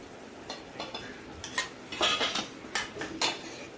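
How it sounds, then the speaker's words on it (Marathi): A metal spoon scrapes and clinks against a pan as yogurt is spooned into dum aloo gravy, making a series of sharp, close, irregular clatters and stirring scrapes. "2 चमचे दही मी याच्यामध्ये ॲड करते."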